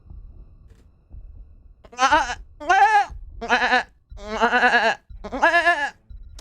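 A voice imitates a goat scream, giving five loud, strained bleating cries in quick succession over faint low background noise.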